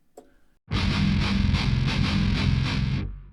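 A heavily distorted electric guitar through an Otto Audio amp simulator with soft compression plays a steady chugging riff for about three seconds after a brief soft tap, the tone dense and slightly smoothed.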